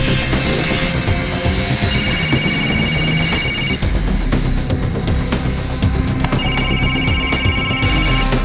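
A telephone rings loudly in two bursts of bright, repeating electronic trills, with a gap between them, over a busy, cluttered background of room noise.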